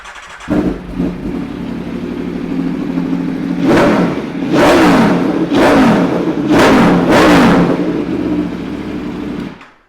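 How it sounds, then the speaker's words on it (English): A 2016 Aprilia Tuono V4 Factory 1100 motorcycle with an Austin Racing exhaust fires up and settles into a loud idle, then gets three or four sharp throttle blips that rise and fall, close and clear with no talking. "Let's give it a quick start up."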